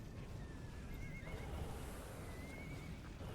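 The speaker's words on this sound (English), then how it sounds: "It sounds like horses whinnying." Horse whinnies from the unicorn bow in the game Guild Wars 2 come in a few high, wavering neighs over a dense, busy game soundscape.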